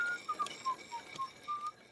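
Someone whistles a short, cheerful tune in a string of quick, clear notes, fairly faint and alone with no talk.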